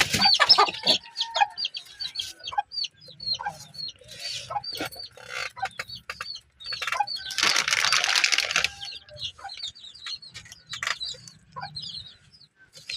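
Chickens cluck and peck close by, with many short sharp calls scattered throughout and a denser burst of noisy fluttering midway; no one talks.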